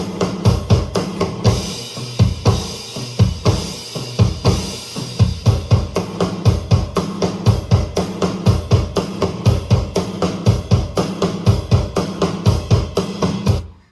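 Loud drums from two kits playing together pound out a steady, busy rhythm of heavy layered hits and washy cymbals, continuous and with no voices.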